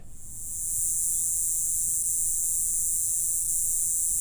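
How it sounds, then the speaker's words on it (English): Katydid calling with a continuous high-pitched shrill buzz that fades in over the first second and then holds steady and loud throughout. "It's a third insect that looks similar, called a katydid."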